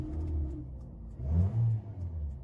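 A 2016 Toyota Corolla XLi with a 1.3 engine cranks and starts, then revs in a couple of low surges before settling to a rumbling idle, heard close up.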